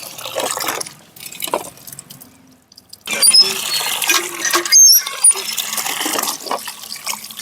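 Pumpkin and cabbage leaves being washed in water, with splashing and sloshing as the leaves are moved about, broken by a short quiet pause, then louder pouring and rinsing, close by.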